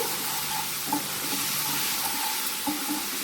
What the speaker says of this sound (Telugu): ఈ పేస్ట్లో ఉన్న వాటర్ కంటెంట్ అనేది ఎవాపరేట్ అయ్యే వరకు ఫ్రై చేసుకోవాలి.